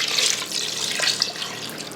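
Liquid pours in a steady splashing stream into an Instant Pot while chicken and dumplings are made, a close and continuous watery rush lasting about two seconds.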